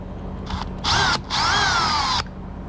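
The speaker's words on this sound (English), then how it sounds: "Drilling holes in kayaks is a lot of fun." Power drill with a 1/4-inch bit boring into a plastic Nucanoe Pursuit kayak: a short whine, then two longer close, loud bursts of high motor whir rising in pitch, no talk.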